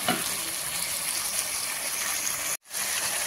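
Vegetables fry in a pan with salt and turmeric, a steady loud sizzle hissing without a break before a sudden brief cutout near the end.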